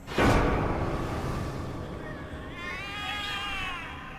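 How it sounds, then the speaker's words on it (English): Cats in the video game The Cat Lady give alarmed meows, a sharp loud cry at the start followed by wavering higher yowls later, all over a steady ambient background. "The cats are alarming."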